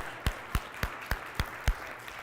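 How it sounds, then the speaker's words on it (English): A few sharp claps from someone in a keynote audience, six evenly spaced strikes without a fuller crowd ovation. "give her a round of applause."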